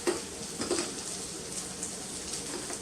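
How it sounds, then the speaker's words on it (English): Faint, steady sizzle of chicken frying in a pan, a soft crackling hiss with occasional small pops, no talking. "If you can hear sizzling, that's why."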